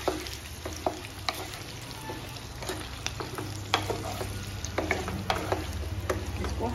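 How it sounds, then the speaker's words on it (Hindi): Potatoes fry gently in ghee in a pan over medium-high flame, giving a soft continuous sizzle with scattered clicks and scrapes as they are stirred, close up and without talk. "अब इनको भी हमने घी में हल्का हल्का फ्राई करना है।"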